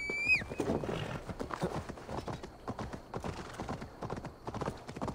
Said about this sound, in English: Let's just call the horse again.